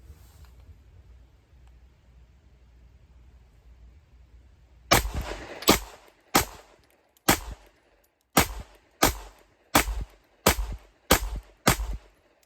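Shadow Systems CR920P pistol fired at a range, a rapid string of about eleven loud, sharp shots in steady rhythm after a quiet stretch of faint background noise, with no talking.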